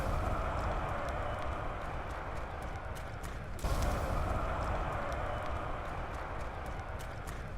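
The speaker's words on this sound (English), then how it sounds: "that was the sound of your crowd affinity going down" Booing crowd in Black Ops 4 Zombies as crowd affinity drops, a dense steady roar of many voices with sharp clattering hits on top and a brief louder swell midway.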